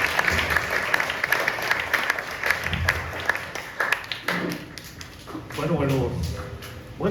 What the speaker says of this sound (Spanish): Y démosle un aplauso a la autora, al autor participando de este video.